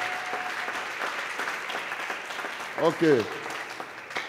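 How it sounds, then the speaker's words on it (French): A church congregation claps together in a steady burst of applause under a spoken voice, with a short sung or chanted phrase rising briefly near the end. "Are you clapping for the Lord or are you clapping?"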